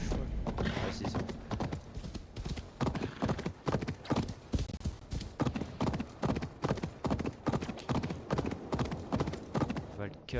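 Rhythmic hoofbeats clatter steadily throughout, a horse galloping at a fast even pace in Assassin's Creed Valhalla, loud and close, with no voices over them.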